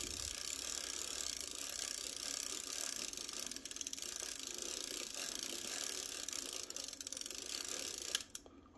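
The film advance crank on a Bronica S2A medium format film camera with a Nikkor 75mm f2.8 lens ratchets steadily and quietly for several seconds, close up, before a final sharp click and a drop to near silence.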